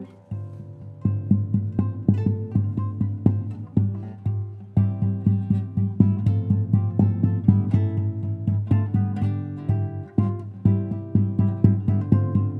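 Classical guitar played with the tambora effect, strings struck near the bridge like a drum, giving repeated percussive thumps with ringing chordal tones, close and steady over several bars with no talking.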